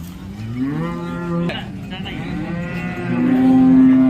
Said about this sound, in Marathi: आपण गाय बघू शकता पॅच वगैरे चांगला आहे